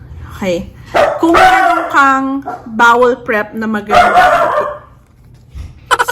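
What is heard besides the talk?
dog barking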